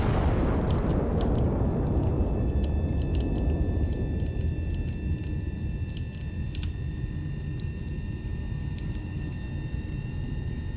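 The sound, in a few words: heavy turret gun firing in video game Iron Nest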